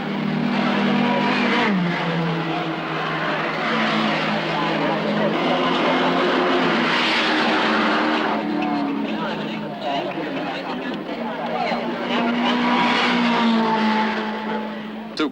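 Touring cars racing at the 1970 Hardie-Ferodo Bathurst 500, with engines roaring and droning continuously throughout while a narrator talks over the sound.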